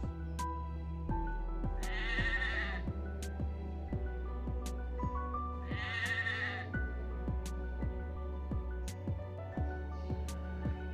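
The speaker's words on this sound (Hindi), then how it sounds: "गोट," A goat bleats loudly twice, a few seconds apart, over a steady beat of background music.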